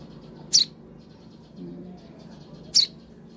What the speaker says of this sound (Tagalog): Ibong simbahan, isang uri ng maya.